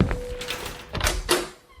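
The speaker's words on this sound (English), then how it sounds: "Heart pounding, Sarah opened the door," Door opening, a short knock-like thump followed by creaks and two louder clunks as the latch and panel move, close and fairly loud with no talk over it.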